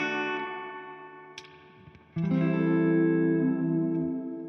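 Sustained electric guitar chords through a Fender Tone Master Pro ring out with long, washy reverb tails; a few quieter notes linger before a louder strummed chord blooms and decays.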